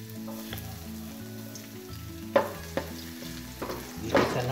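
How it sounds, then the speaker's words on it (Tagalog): Garlic sautéing in hot oil in a pan while pancit rice noodles are being prepared, with a steady close sizzle and a few sharper bursts of frying and stirring. "Igisa na natin ang bawang."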